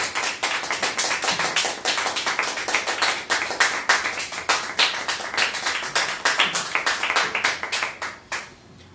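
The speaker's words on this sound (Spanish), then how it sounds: "Dale palmas de alabanza al que vive." A church congregation claps steadily in praise, a dense run of rhythmic handclaps at a brisk even beat from many hands, loud and close, continuing for several seconds before thinning out at the end.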